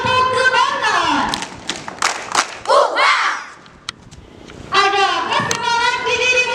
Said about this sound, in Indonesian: Beri tepuk kebanggaan